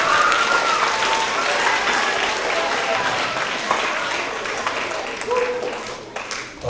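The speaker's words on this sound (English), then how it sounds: "big round of applause for Abby once again." An elementary school award assembly crowd applauds the student president, a dense, sustained round of clapping that fills the room, with voices mixed in, then gradually thins toward the end.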